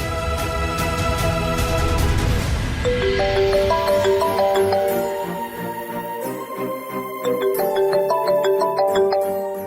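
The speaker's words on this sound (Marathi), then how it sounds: "राघवचा फोन येतोय" A mobile phone rings with an incoming call, a melodic electronic ringtone of bright repeating tones, loud and close, over background music and ambience in a Marathi TV drama scene.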